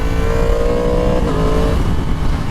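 A 2022 Yamaha MT-10 motorcycle engine drones loudly and steadily while riding in B mode, its pitch holding and then dipping slightly as the revs change.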